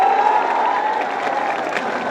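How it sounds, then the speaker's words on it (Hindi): Applause and light cheering from a crowd at a gathering, steady dense clapping with a voice-like tone early on, continuous at a moderate level. "इसके लिए जोरदार ताली बजाओ सब लोग।"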